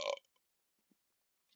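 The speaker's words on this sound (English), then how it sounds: "Sorry for the burp there." A single short, close burp from a person, loud and abrupt, followed by near silence with a couple of faint small mouth noises.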